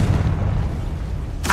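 A Confringo spell explosion in Hogwarts Legacy gameplay lands as a heavy, rumbling boom that fills the short moment, with a brighter crack at the very end.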